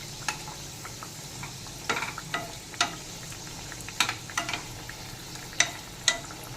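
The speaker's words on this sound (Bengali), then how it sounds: "দুদিকই হালকা গোল্ডেন করে ভেজে নেব" Chicken kochuri fry in refined oil in a pan, a steady soft sizzle broken by sharp pops and spatters scattered across the clip, with no voices.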